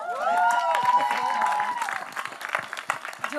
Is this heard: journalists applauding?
yes